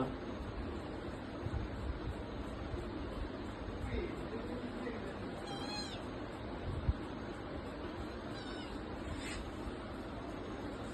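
A few faint, high kitten meows rise through a steady background wash, brief and thin, with a murmuring voice nearby.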